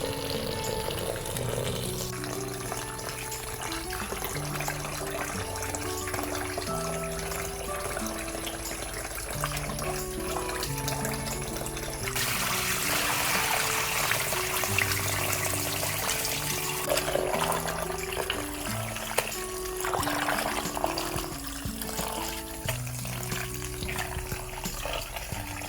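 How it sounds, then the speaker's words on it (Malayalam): Water runs and sloshes steadily as homemade butter is washed in a kitchen to make ghee, a continuous close splashing wash with a surge midway and soft music underneath. "ഇനി ഇതിന് ഞാൻ ഒരു 3-4 വട്ടം ഇതേപോലെ തന്നെ കഴുകി നല്ല പോലെ കഴുകിയെടുക്കണം."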